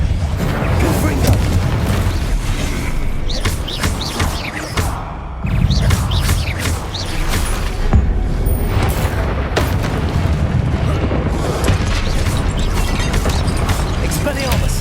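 Spell explosions from Confringo blast spells in Hogwarts Legacy, a run of loud booming bursts and crashes amid dense combat noise with a voice calling out over them.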